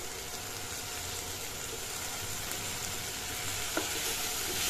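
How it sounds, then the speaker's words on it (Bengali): Potatoes and bora fritters frying in spiced oil for a Bengali prawn and brinjal curry give off a steady, close crackling sizzle that runs unbroken throughout, with one brief tap near the end and no voices. "এবার আমি আলু দিয়ে দিলাম।"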